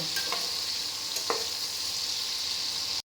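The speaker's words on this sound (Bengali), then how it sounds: "এটাকে আমি হালকা ফ্রাই করে নেব খুব একটা বেশি না একদম মিডিয়াম ফ্লেমেই এটা আমি রান্না করব" Chilli chicken fries lightly in a pan over a medium flame, giving a steady close sizzle with a few stirring scrapes and no talking.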